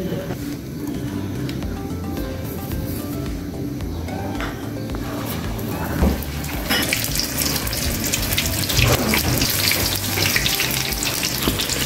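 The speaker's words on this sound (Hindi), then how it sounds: "अब हम इसी में पनीर के पकोड़े डालेंगे।" Paneer pakoras sizzle and bubble in hot oil in a home kitchen, a steady close frying hiss that grows busier and brighter partway through, with no speech.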